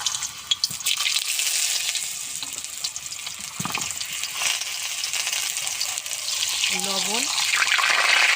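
Pointed gourd pieces frying in mustard oil in a hot kadai give a steady, close sizzle that runs throughout, with a brief voice breaking in near the end.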